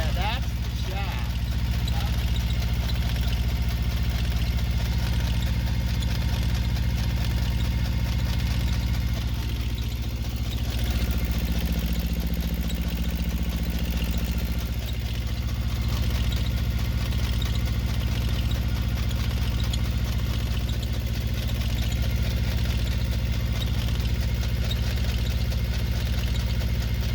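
A Yanmar diesel engine idles steadily with a constant low rumble and vibration, running continuously at close range with a faint knocking texture and a slight change in tone midway.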